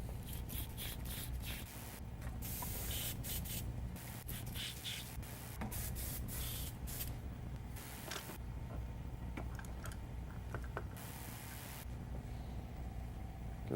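An airbrush is rinsed out by spraying, giving a run of soft, close hissing bursts of varying length over a low steady hum, with no talk.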